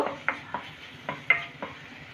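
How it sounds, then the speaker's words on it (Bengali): Spices being stirred in a pan for a dry potato and pointed gourd sabzi, heard as about six soft, sharp scraping strokes at a steady pace over a faint low sizzle, with no talking. "সব মশলাগুলোকে একটু আমি নেড়ে নেব।"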